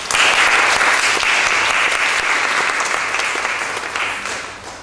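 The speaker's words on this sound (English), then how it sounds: "let's give a round of applause to David and welcome him to Brighton" Lecture audience in Brighton breaks into a full round of applause welcoming a guest speaker, dense steady clapping from the start that slowly thins toward the end.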